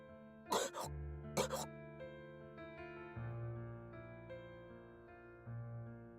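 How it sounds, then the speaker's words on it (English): Two short, distinct coughs from a young princess character in the video game Goddess of Victory: Nikke, heard close over quiet sustained background music. "Princess suddenly coughs up blood."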